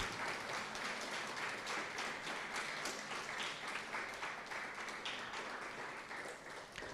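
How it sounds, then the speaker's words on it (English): A school speech day audience gives a long round of applause for maths award winners, many hands clapping densely and steadily before tapering slightly at the end. "Can we have a big round of applause for all of our Academic Attainment Maths winners?"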